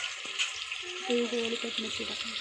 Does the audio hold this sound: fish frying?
yes